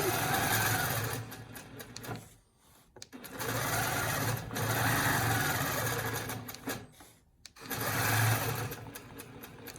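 Longarm quilting machine stitching in cruise mode, a fast, steady needle chatter that runs in long stretches, briefly stops twice and picks up again, with talk over it.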